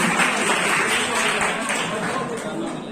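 A crowd at an NSS Foundation Day celebration applauds to welcome a guest, a continuous wash of many hands clapping at an even level that tapers slightly at the end.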